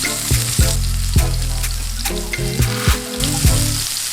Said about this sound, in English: I'm searing them from all different sides